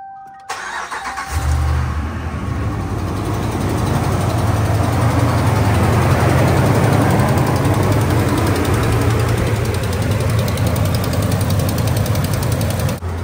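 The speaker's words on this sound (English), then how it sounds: "the old exhaust manifold tick" A 5.7 Hemi V8 in a 2017 Ram 1500 cranks on a cold start and settles into a loud, steady idle with a fast, even ticking from a broken exhaust manifold bolt running through the exhaust rumble.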